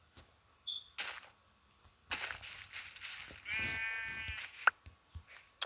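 Sheep bleating in the Minecraft video game, one short wavering bleat midway among scattered clicks and soft game sounds, fairly faint overall.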